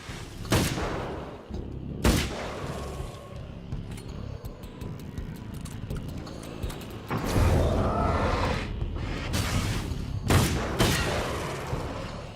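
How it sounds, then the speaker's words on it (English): An assault rifle fires in Alan Wake's American Nightmare, loud sharp bursts of gunfire coming in several separate volleys with rumbling echoes between them. "Now we're gonna try the assault rifle 15."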